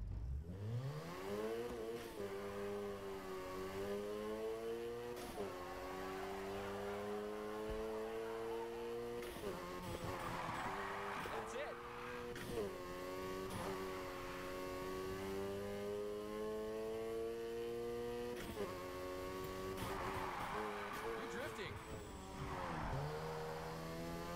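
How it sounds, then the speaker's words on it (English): A car drifting in the Need for Speed Heat video game, its engine revving hard and climbing through gears in repeated surges, with tire squeal and skidding over a steady, loud roar. "First up, let's hit a basic drift. Remember, slam on the gas and steer."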